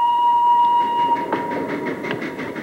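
Passing train with steady rolling rail noise, a sustained whistle-like tone early on, then rhythmic clickety-clack of wagons over the joints, fairly loud and close with no talk.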